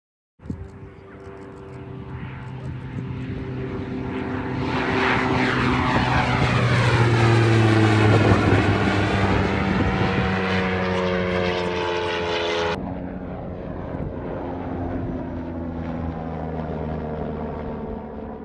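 A US Air Force MQ-9 Reaper drone's propeller engine drones loudly and steadily overhead, its pitch sweeping as it passes, swelling to a peak midway and then easing off, with no talk.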